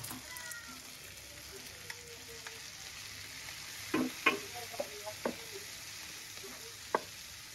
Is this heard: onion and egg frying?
yes